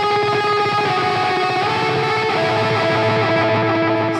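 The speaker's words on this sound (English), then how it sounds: "That's the sound of a delay in front of an amplifier." Distorted electric guitar through a quarter-note delay set in front of the amplifier, sustained notes smearing into echoing repeats in a steady, dense wash throughout.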